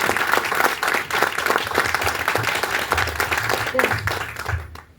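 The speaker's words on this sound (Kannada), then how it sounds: "ಸೊ ಹಾಗಾಗಿ ಅವ್ರಿಗೋಸ್ಕರ ಇನ್ನೊಂದ್ಸಲ ಜೋರಾಗಿ ಚಪ್ಪಾಳೆ." An audience applauding loudly and steadily at a company gathering, dense clapping filling the room for several seconds before tapering off at the end, with some voices mixed in underneath.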